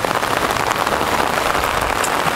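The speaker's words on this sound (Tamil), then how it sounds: "நல்ல மழைங்க." Steady heavy rain pours down in a garden hours before Cyclone Nivar, a dense, loud, continuous hiss of drops hitting surfaces with no voices.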